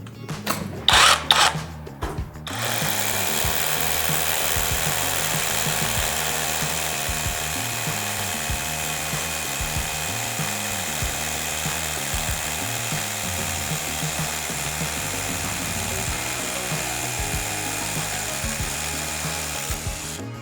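A Dnipro-M DHR-202BC rotary hammer drills into concrete with a 12 mm bit, grinding steadily for a long stretch with a rhythmic pulsing hammer action, after a few sharp bursts at the start.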